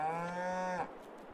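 Single steady cow moo from the Farming Simulator 22 game on its France map, a sustained harmonic lowing that cuts off sharply after under a second, close and clear with no talking.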